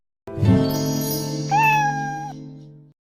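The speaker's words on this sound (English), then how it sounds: "I got a new kitten a few weeks ago." A young kitten gives one long, drawn-out meow that rises into a higher, strained cry before trailing off, close and clear with no talking.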